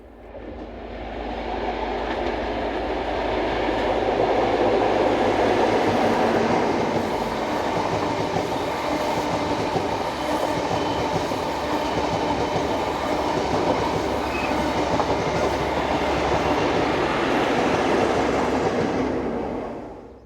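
A High Speed Train with power cars 43150 and 43004, Paignton to London Paddington, rumbles past close by slowing for a junction near Westbury, wheels clacking over rail joints with a steady roar that swells and holds before easing off.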